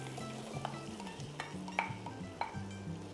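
Garlic and shallot cook in melted butter, giving a soft steady sizzle with light crackles and a few faint scraping stirs, gentle and close, with no voices.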